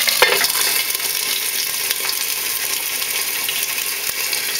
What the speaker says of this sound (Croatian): procijedit ćemo ih od vode i stavit ćemo ih na uljenu tavu iz peći